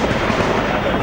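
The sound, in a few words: grenade explosion in news footage of attack on CRPF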